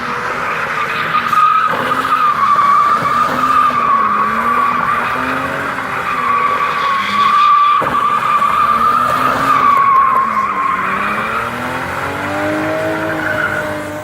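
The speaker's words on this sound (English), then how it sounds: "That thing can do burnouts and donuts" A 150 horsepower BMW E36 320 with a welded differential spins donuts, its tires squealing in a loud continuous wail that bends and wavers in pitch, with engine drone underneath.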